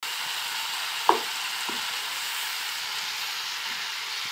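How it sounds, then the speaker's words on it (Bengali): Chicken curry with mustard paste sizzling in a pan while being stirred, a continuous frying hiss with a couple of soft scraping knocks, fairly faint and steady. "আর একটু নাড়াচাড়া করব"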